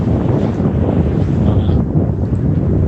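Strong wind blasts across the microphone by chilly open water in November sunshine, a heavy, close, continuous rumble pulsing unevenly, with no one talking.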